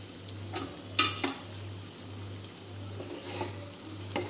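Spoon stirring paneer curry in a pan, a soft, faint scraping and light clinks at scattered moments over a steady low hum, with no voices.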